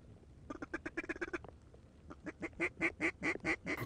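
Ducks in a field quack in quick runs, a brief burst, then a pause, then a louder, steady series of calls, moderately near and with no talk.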